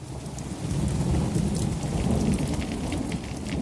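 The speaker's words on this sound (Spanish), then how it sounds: "ese día llovió y la tormenta apagó las llamas" Steady rain pours down with a low thunderstorm rumble rolling underneath, a continuous wash of sound that swells slightly after the first half second and holds loud and even, with no voices.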